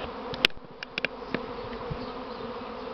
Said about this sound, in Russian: Раз такая пчела роиливая.